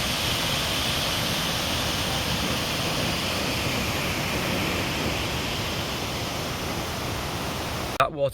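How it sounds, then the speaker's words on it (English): A waterfall with lots of flowing water rushes as a steady, even broadband roar, constant throughout with no breaks, ending with a short bump of handling noise. "That waterfall I just showed you was the first waterfall that I've seen on this trip"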